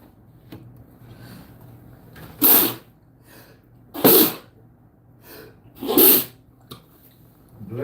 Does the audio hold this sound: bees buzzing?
no